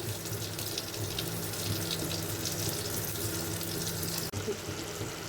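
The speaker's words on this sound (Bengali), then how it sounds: "দেখো ফুটতে শুরু করেছে" Potato and pumpkin white curry simmering in a pan on a gas stove, a steady close bubbling and hissing boil that runs continuously without talk.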